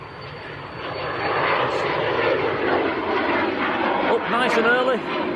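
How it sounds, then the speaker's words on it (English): A Pilatus PC-24 business jet at Manchester Airport gives a broad, rising engine roar that swells and holds, heard at a distance while a person talks over it. "here comes the little, the brand new PC-24"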